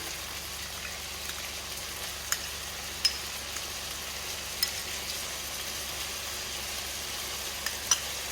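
Chicken sizzling steadily in a pan with sour cream, a soft, even frying hiss with a few faint pops and clicks, close by and without voices.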